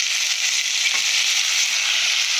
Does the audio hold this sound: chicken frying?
yes